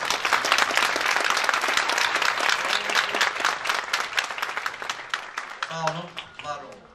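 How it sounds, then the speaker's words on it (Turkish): An audience applauds a Turkish folk music choir at a concert: loud, dense clapping sustained for several seconds, then thinning out as a voice begins speaking near the end. "alkışlamanızı istiyorum"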